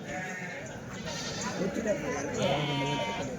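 Nellore Jodipi sheep bleat at the weekly Kadiri sheep and ram market. Several calls rise out of a busy crowd, and people talk throughout.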